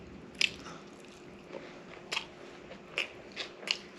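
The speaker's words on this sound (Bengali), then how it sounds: "পটল সিদ্ধ খাবো আর বলবো।" Close, quiet bites and soft squishy chewing of plain boiled pointed gourd, with several distinct moist crunches spaced through a few seconds and no talking.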